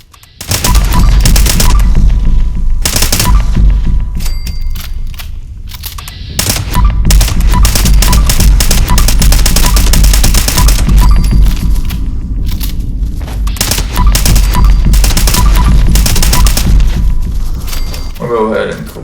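Gunfire from the Gun Fu perk in Fallout 76, loud and near. Dense bursts of rapid automatic shots and booms run almost nonstop, with a brief lull partway through.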